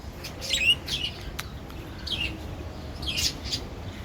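Pet budgies and finches kept in a home cage chirp in short bright bursts, a few separate calls spread across the moment over a faint room background, fairly close and moderately loud.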